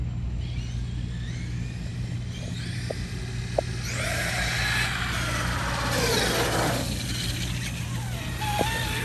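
A Traxxas Xmaxx RC monster truck drives nearby outdoors, its electric motor whining in rising and falling sweeps as it speeds up and slows down over a steady background rumble.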